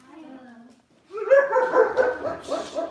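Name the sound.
dogs barking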